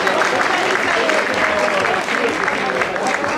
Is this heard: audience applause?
yes